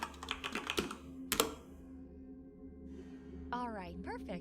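Quick clattering keystrokes on a computer keyboard in the video game Unknown 9, a short burst of typing followed by quiet and a brief voice.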